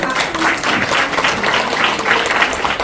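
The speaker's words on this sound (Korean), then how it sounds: "여러분께서 주신 박수에 힘입어" Steady, dense applause from an audience at the opening of a civic history forum in Incheon's old downtown, a sustained wash of clapping at even loudness throughout.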